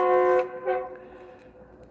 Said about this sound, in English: I got the train again